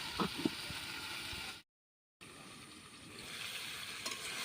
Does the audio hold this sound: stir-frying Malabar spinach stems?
yes